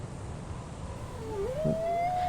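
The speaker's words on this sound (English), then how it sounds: "They're whales." Whales call out at sea, a long rising and falling moan followed by a sustained tonal wail, faint to moderate over a constant low wash of water and engine rumble.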